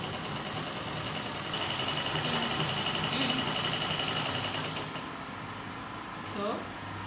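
A sewing machine stitches a quarter-inch shoulder seam on a kimono dress, running steadily and close for about five seconds before stopping, with a quieter stretch after.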